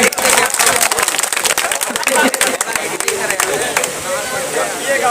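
A crowd claps loudly in a dense burst of applause that gradually thins out, with people talking and chattering over it at a gathering.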